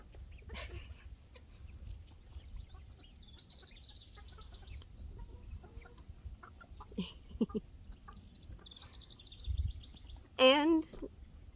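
Backyard chickens give soft, scattered clucks and brief calls over a quiet outdoor background, with one louder, sharper squawk near the end; a person talks quietly at times.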